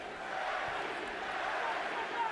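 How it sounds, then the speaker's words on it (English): A large boxing arena crowd at the Manny Pacquiao vs. Timothy Bradley fight roars steadily and chants for Pacquiao, a dense, continuous wall of voices with no distinct individual speech. "The chant you hear is Manny, Manny, Manny."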